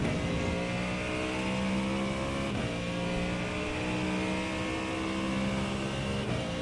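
GT3 race car engine in iRacing, a steady loud drone with harmonic whine, shifting pitch slightly as the car accelerates and lifts, continuous without talk.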